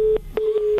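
A telephone line left cut off gives a steady single-pitched tone with brief repeating pulses, loud and alone, like a busy or disconnect signal.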